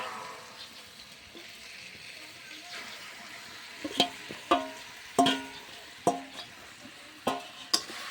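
Marinated duck meat tipped onto tomato and spices in a hot pan, a Tamil Nadu Chettinad dish, giving a soft steady sizzle broken by several sharp clanks and scrapes of a utensil against the pot.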